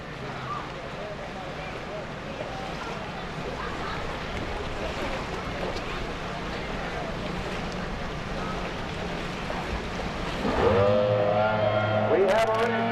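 Racing boats on a lake race course roar steadily as a continuous engine drone under wind noise, with a sharper, louder engine whine rising near the end, and speech likely running over the noise.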